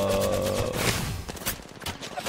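Incoming gunfire hits in a video game, a brief close burst of rapid rattling shots with a tonal hum at first, then scattered cracks trailing off.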